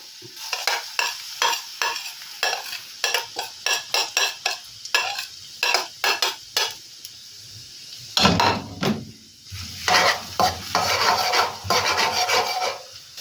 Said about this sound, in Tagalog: magluluto tayo ngayon ng garlic butter shrimp at ilunod na natin ang garlic